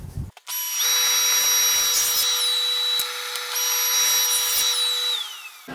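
A power tool whines loudly and steadily while cutting wood for an armoire bead. It spins up abruptly, holds a high-pitched, sustained tone with a brief dip midway, then winds down.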